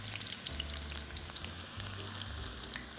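Sliced shallots cooking in hot oil until crispy give a steady, dense, hissing sizzle with fine crackles throughout, close and even in level, with no voices.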